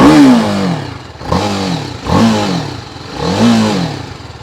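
A BMW G 310 RR single-cylinder motorcycle engine is revved hard four times in a row, each rise and drop of pitch loud and close, with no talk over it.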